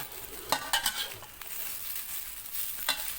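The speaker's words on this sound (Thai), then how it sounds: "ผัดผัดข้าวให้เข้ากับไข่เล็กน้อย" Egg fried rice being stir-fried in a pan with cooked rice and prepared chili sauce. A steady close sizzle runs throughout, with a few sharp scrapes and clinks of the utensil against the pan and no talk.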